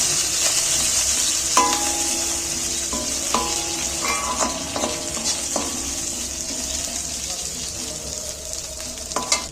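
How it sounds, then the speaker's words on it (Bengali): Curry leaves with chopped green chillies are stirred in hot oil in a pan for a fennel-paste chicken curry, giving a steady loud sizzle and frying hiss. Scattered clicks and scrapes from the spoon against the pan come through intermittently. "দিয়ে তেলের মধ্যে আমি একটু নাড়াচাড়া করে নেব"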